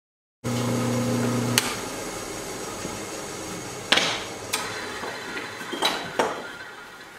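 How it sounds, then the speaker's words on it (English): A drill press spins a router bit while shaping wood for a DIY folding coat rack: a steady motor hum at first, then sharp clacks and knocks at irregular intervals as the bit bites. "So I just put my router bit in my press drill."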